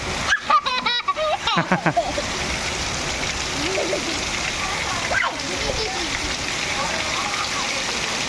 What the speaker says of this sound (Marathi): इकडे पाऊस भरपूरच पडलेला आहे